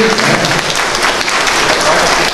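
An audience at a travelling municipal council session applauds, a thick, even wash of clapping from many people that stays loud and continuous throughout.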